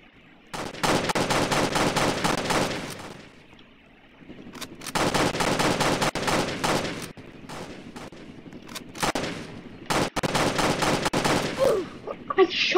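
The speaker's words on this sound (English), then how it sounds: "I shot at him!" Rapid automatic gunfire in the Roblox Jailbreak video game comes in several long loud bursts separated by brief quiet gaps, with a few single shots near the end.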